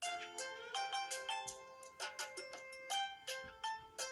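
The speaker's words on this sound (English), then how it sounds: "I'm gonna set this that this has the ringtone." Huawei smartphone ringtone plays a bright, harmonically rich tune of quick rhythmic plucked notes, clear and fairly close with no talking.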